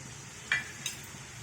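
Salted eggplant and pigeon pea curry is stirred in a pan: a soft background sizzle broken by two quick scraping clinks of the spoon against the pan, close and fairly quiet.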